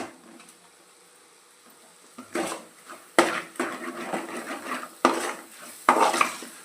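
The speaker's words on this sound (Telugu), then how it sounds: "ఇవన్నీ ఒకసారి కలుపుకుందామండి" Ladle stirring ground coriander and cumin powder in a cooking pot, a few distinct scraping and clanking strokes against the metal, close and fairly loud, with quiet gaps between.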